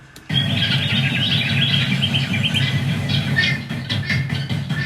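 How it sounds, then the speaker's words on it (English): Birds chirp and tweet in a busy, continuous chorus over a low droning hum, the calls steady and moderately loud with no talking. "let's listen to these birds just sort of on their own for a moment"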